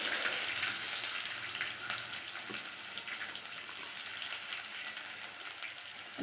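Four small onions sauté in a pan for an ivy gourd stir-fry, a constant hissing sizzle with a faint watery edge, steady and fairly close with no voices.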